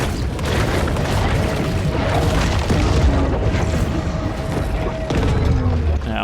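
A torpedo explodes in the game Maneater, a loud, sustained, roaring boom with crashing debris that fills the whole stretch.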